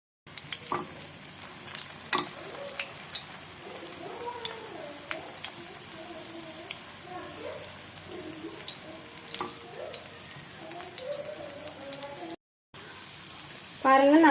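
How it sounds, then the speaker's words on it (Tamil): Fish cutlets shallow-fry in a pan with a soft, continuous sizzle and occasional clinks, heard faintly beneath a person talking throughout. "பாருங்கள் நல்லா ஃப்ரை ஆயிடுச்சு."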